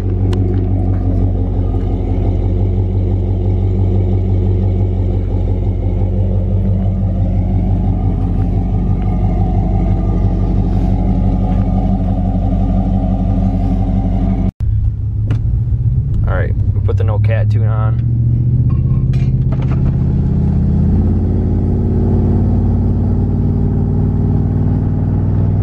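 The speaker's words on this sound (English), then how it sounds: "All right, here's a hot idle." Catless car exhaust idling hot, a steady low rumbling drone that runs loud and close, broken by a brief gap near the middle before the engine note returns, with someone talking over it.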